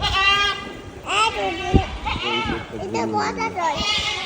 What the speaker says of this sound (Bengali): এই দেখো একটা ছাগল।